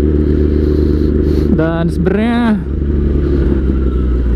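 A 1000 cc Kawasaki ZX10R sportbike fitted with an Austin Racing exhaust idles with a steady deep rumble while someone talks over it close up.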